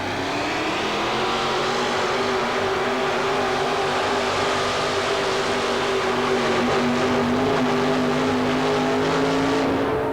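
A 4WD pulling truck at an indoor truck pull in the Omni, Atlanta, 1990, its engine roaring loud and sustained for the whole stretch, with a steady pitch that climbs slightly near the end.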